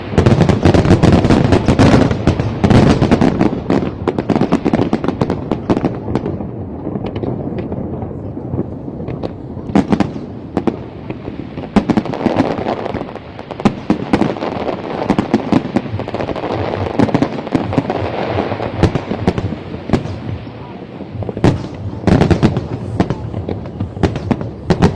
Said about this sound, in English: This is the Lunar New Year's firework display.